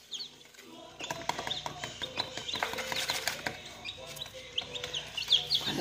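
A flock of farm chickens at morning feeding time clucks and chirps busily, with overlapping calls that swell and dip in a dense, close chorus and no talking.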